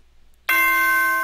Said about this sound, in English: Ding dong! That very familiar dinging.